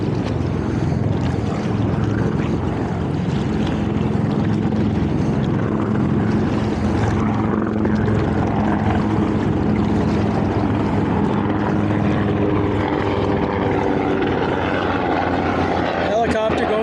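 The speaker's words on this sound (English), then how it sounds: "Helicopter going overhead." Loud continuous rumble and roar of a helicopter engine passing overhead over wind and water, with a broad low drone, heard from a kayak on New York's East River near the Manhattan Bridge.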